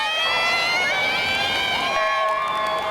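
Crowd of kids screaming and cheering loudly and continuously at an indoor swim meet in Beaver Creek, a dense wash of high shouts with no break.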